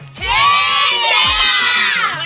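A crowd of children shouting and whooping together during the Chherchera festival, loud, close and sustained throughout with excited overlapping voices.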